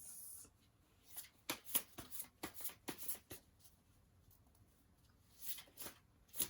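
Playing cards riffle and shuffle up close in quick papery bursts during a tarot reading, a run of flicks, a pause, then a few more soft shuffles.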